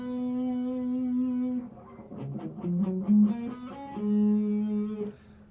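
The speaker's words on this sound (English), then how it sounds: "I call it guitar fill at the very end, a little harmony fill" Distorted electric guitar playing a short harmony fill: a held note, then a quick run of bent notes, then another sustained note, played alone without talk.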